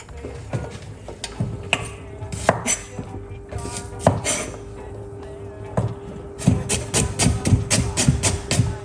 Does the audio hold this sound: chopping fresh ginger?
yes